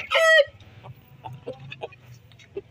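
A shamo gamefowl rooster lets out a brief loud crowing call, then gives soft, scattered clucks over a low background hum, close to the listener.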